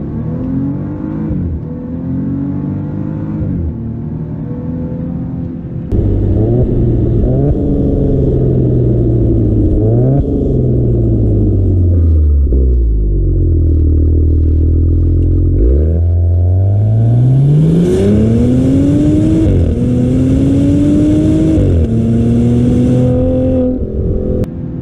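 The engine of a 2024 Maserati Ghibli Modena Ultima roars loud and close under hard acceleration, climbing in pitch through repeated upshifts, each marked by a brief drop before the next strong rise.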